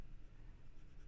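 A pencil scratches across paper while drawing Michelangelo's David, giving a close, continuous, dry grainy rasp with small strokes.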